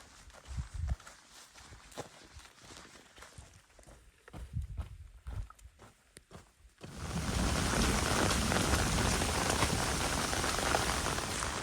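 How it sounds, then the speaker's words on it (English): Rain in the Georgian mountains, first as scattered drips and footstep-like crunches, then a sudden switch to a dense, loud, steady downpour hissing close by. "This rain sucks."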